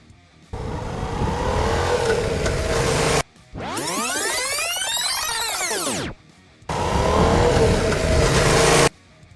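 A motorcycle engine roars close and loud while shifting up through the gears, into third around 42–46 km/h, on a riding-test course, its pitch sweeping up and back down between rough bursts of throttle, with brief silent breaks and no voices.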